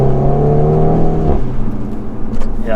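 Volkswagen Scirocco 1.4 Twin Charged engine revving up from inside the car, a loud droning rise in pitch that holds then drops away, close and steady with no talk.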